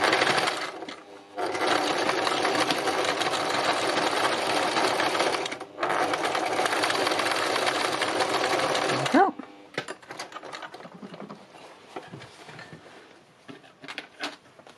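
A sewing machine stitches fabric in close, loud, steady whirring runs with a brief pause in between, then stops, leaving soft handling noises and fabric rustles.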